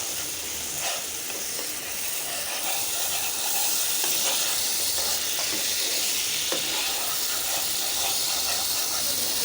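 A spice paste of chili powder, coriander powder, ground cumin, garlic and ginger simmers in a pan after water is added, giving a steady, loud hiss and sizzle with faint occasional scrapes.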